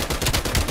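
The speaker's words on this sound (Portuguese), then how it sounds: "Mano, mas porquê que eu disparo 3 vezes?" Sniper rifle shots in a capture-the-flag round of a first-person shooter game: a quick burst of loud, sharp reports in rapid succession, close and dominant, with no talking.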